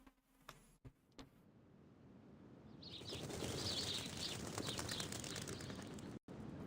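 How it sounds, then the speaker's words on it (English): Birds chirp in the Reverse 1999 video game, faint at first after a few soft knocks, then a denser bed of light, high chirps and ambient noise swells and continues until a brief cutoff near the end. "Sound of birds chirping fills the air."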